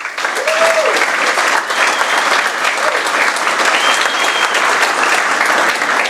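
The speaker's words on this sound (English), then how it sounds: "He deserves a round of applause." A brunch crowd at a Dutchess County, New York Conservative Party event bursts into sustained, loud applause that carries on evenly, with a faint voice or whistle rising briefly over the clapping.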